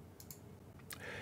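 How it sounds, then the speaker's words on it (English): A couple of quiet computer mouse clicks, faint and close, on a quiet background. "we're going to click remove"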